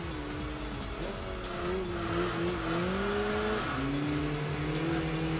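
A race car in the Enthusia video game brakes hard for a chicane, the engine note dropping and shifting while tires squeal, then it picks up again, moderately loud with no talking.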